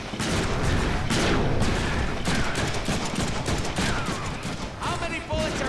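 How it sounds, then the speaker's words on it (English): Dense, continuous gunfire and explosive impacts fill a Deadpool video game shootout, loud rapid shots overlapping throughout with occasional higher whines and effects layered on top. "so if you wanna shoot stuff, I'll shoot stuff"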